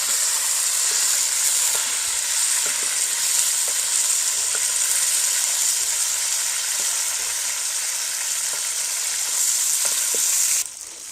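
Chicken frying in a pan on a village stove makes a loud, continuous close sizzle, with occasional soft scrapes and taps of a spatula throughout, no voices, and the sound drops away sharply at the very end.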